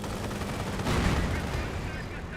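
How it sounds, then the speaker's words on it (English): Rapid machine-gun strafing from a Henschel aircraft in Company of Heroes, a dense continuous rattle of fire that swells briefly in the middle, loud and close over a busy battle din. "Henschel's strafing, out of control there."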